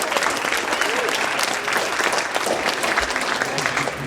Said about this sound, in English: Hey everyone, clap it up for Erica.